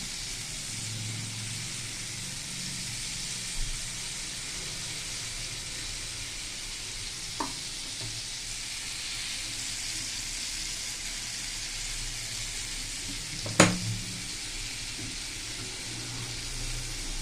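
Palm fruit fritters (taler bora) fry in oil with a soft, even hiss that holds steady throughout, broken only by a couple of faint clicks and one brief sharp knock.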